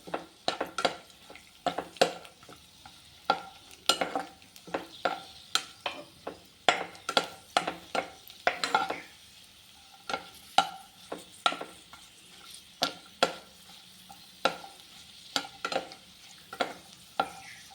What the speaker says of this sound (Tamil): தேங்காய் பூவை நல்லா வதக்கிக்கணும் தேங்காய் பூ அப்படியே போடக்கூடாது